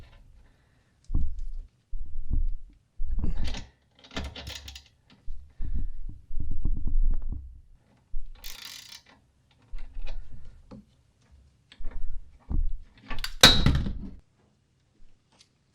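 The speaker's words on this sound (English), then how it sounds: "Run it as far as we can by hand, and then ratchet" A ratchet wrench turns out an indoor cycling bike pedal, giving about a dozen short bursts of crisp metallic clicking with brief pauses between strokes, close and fairly loud, no talking.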